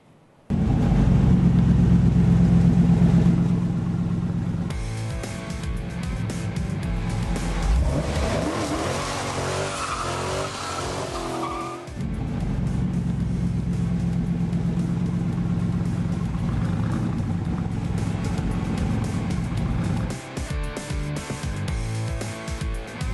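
A loud Dodge race car engine roars and revs throughout, with tires squealing and skidding in the middle before the engine drones on.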